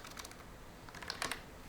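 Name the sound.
typing a URL on a computer keyboard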